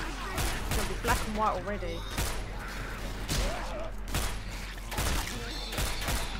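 Rapid gunfire from a Left 4 Dead 2 co-op match, dense bursts of shots cracking repeatedly throughout while several players talk over the action.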